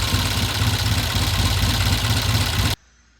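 A 1969 Norton motorcycle engine idles with a steady, even low rumble for a few seconds, then cuts off abruptly to near silence.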